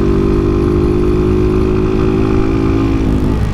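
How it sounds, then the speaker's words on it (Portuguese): Motorcycle engine idling loudly and close, a steady low throbbing drone with slight unevenness and a faint dip near the end, as if faltering toward a stall. "A moto querendo parar."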